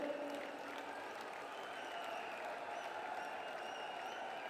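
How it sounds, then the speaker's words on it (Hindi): Large crowd applauding at a political rally in Jaipur attended by Prime Minister Narendra Modi, a steady dense wash of clapping that holds evenly throughout at moderate distance, with no speech over it. "एक बार जोरदार ताली बजाकर"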